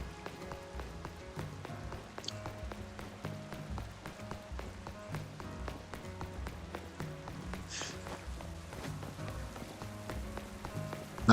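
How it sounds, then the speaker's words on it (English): Rain falling in the video game Pokémon Legends: Z-A, a steady patter of drops over a looping game soundtrack, continuous and moderately loud with a few sharper taps. "Oh, it's raining now."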